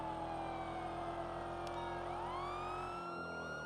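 A car engine drones steadily in the video game GTA V, with a siren wailing and sweeping over it and the engine note shifting near the end.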